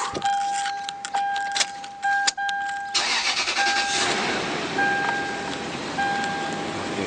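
A 2003 Toyota 4Runner V8 with an A750 transmission and multiple transmission fault codes, with keys jangling before the engine cranks and fires, settling into a steady, fairly loud idle with a faint repeating tone.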